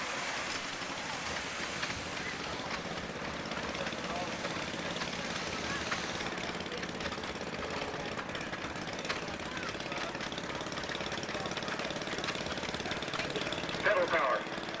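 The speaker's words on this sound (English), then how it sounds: "Watch it, he'll start the engine." A real tractor engine starts and runs as a steady, rough, rattling drone. It holds at an even level throughout, with voices faintly in the background.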